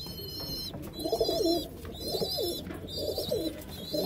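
Several pigeons coo nearby in repeated soft, rolling phrases, over a faint background hum and thin high-pitched chirping.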